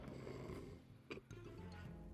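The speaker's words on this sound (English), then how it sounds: "somebody over there starts snoring" A person snores nearby, a rough rasping inhale followed by a short snorting catch partway through, loud and close in a dormitory room at night.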